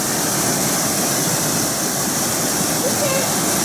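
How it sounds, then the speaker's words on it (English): A waterfall cascades along the Hanging Lake trail in Colorado, a loud, steady broadband roar of rushing water filling the whole stretch without a break. "Waterfall's neat."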